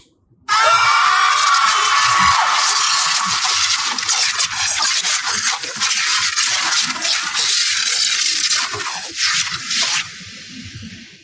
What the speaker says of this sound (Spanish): Lo único que se escuchó fue el grito desgarrador de Peterson.